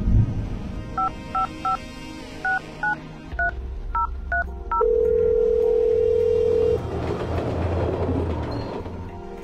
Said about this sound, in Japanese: ヨハンナ・セフティスになって電話してみる